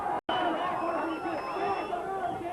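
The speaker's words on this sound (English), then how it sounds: "Big enthusiastic crowd here in Dublin at the Jury's Hotel, and they're enjoying this performance by Paul Lenihan." A big, enthusiastic crowd at a boxing match in Dublin's Jury's Hotel keeps up a steady, loud murmur of cheering and chatter throughout.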